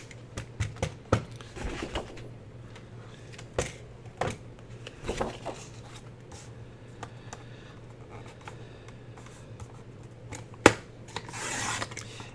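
Scissors cutting paper for a journal writing board, soft crisp snips and rustling close up over a low steady hum, irregular and quiet.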